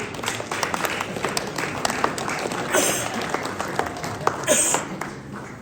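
Group applause in a Title IX training session, a room of people clapping in a dense, steady patter with a few voices mixed in under it.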